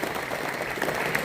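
An audience claps in a dense, steady burst of applause at a municipal council president's swearing-in ceremony in Jat, Sangli. The clapping is continuous and moderately loud throughout, with no voices over it.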